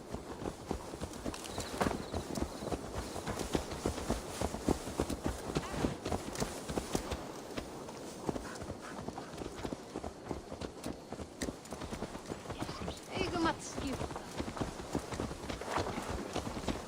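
A horse's hooves clip-clop steadily in the video game Assassin's Creed Valhalla, a continuous rhythmic clatter of trotting steps with a faint background ambience and occasional brief sounds.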